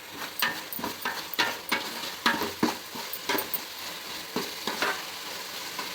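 Vegetables and vermicelli sautéing in a pan for semiya kichadi, a steady sizzle broken by a series of sharp scraping stirs and clinks of the spoon against the pan, close and fairly loud with no talking.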